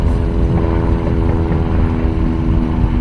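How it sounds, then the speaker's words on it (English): An airplane flies overhead on New Year's Eve in Seattle, heard from a boat on the water: a loud, steady, low engine drone with rumbling tones that holds constant throughout, with no talking. "Oh, it's a plane."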